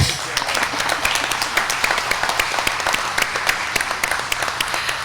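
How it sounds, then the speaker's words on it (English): Audience applause at a takeover signing ceremony, a dense, steady patter of many hands clapping across the whole stretch at moderate loudness, with no one speaking over it. "And now the applause, please."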